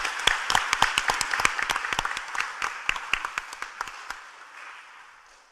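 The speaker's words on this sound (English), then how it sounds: "So please give them all a round of applause for the beautiful displays" Audience applause at a county commission workshop, a burst of sharp hand claps up close that thins out and fades over about five seconds.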